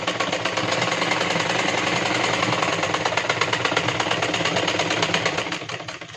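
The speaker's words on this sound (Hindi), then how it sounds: "एक बार और इसको फोल्ड करके इसको हम इस तरीके से सिलाई लगा रहे हैं" A sewing machine runs steadily, stitching a folded blouse piece, with a fast even mechanical whir and rapid needle ticking held close for several seconds before slowing at the end.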